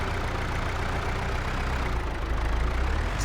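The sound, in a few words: tractor engine pulling a cultivator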